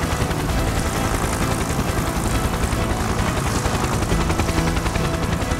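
A cartoon helicopter hovering over a house with its winch lowered gives a continuous, loud, dense whirring rotor chop, steady throughout with no talking.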